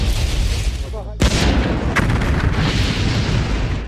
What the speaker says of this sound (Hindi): कोलंबिया स्पेस शटल में एक